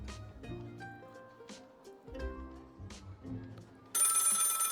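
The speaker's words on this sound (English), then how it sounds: "The phone is ringing." An old-style telephone bell rings repeatedly in the video game Lil Guardsman, loud and insistent, with game music underneath.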